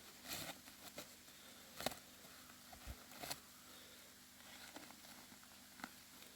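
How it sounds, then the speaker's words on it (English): Sudden rain shower pattering on a garden shelter, a steady soft patter with scattered louder drops heard close, no talking. "I just had to quickly take shelter because of a sudden rain shower"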